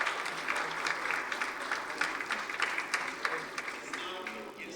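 Applause ripples through the room at a closing press conference, a moderate spread of hand claps that swells and fades unevenly, with faint voices underneath.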